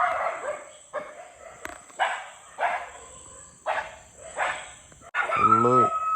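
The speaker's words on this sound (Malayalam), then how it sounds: "ഫുള്ള് നായ്ക്കളാട്ടോ. ഡോഗ്സ് ആണ്." Several dogs bark on a street at night during food-delivery work, about six separate barks and yelps at moderate distance, ending in a longer howling whine.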